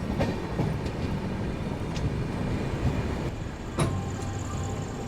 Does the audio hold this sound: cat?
no